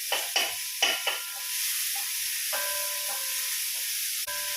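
Onion sautéing in a pan, with several sharp scrapes and stirs at the start and then a steady sizzle running close and fairly loud, alone with no talk.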